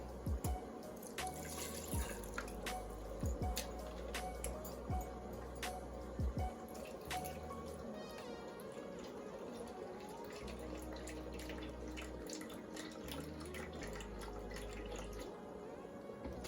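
Liquid splashes and trickles steadily into a pot over corned beef brisket, with scattered drips and small knocks over a constant wet pouring sound, close by.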